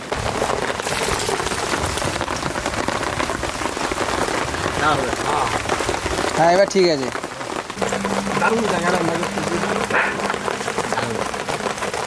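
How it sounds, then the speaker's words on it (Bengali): Heavy rain pours steadily on a tent during a rainy-day outdoor cooking session, a dense, constant hiss with people talking over it throughout. "হ্যাঁ বৃষ্টি হলো বৃষ্টি চরম বৃষ্টি দুর্দান্ত বৃষ্টি"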